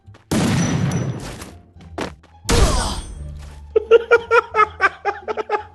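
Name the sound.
Winchester rifle gunshots in a video game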